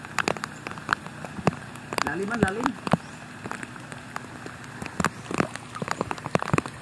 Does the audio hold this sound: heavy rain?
yes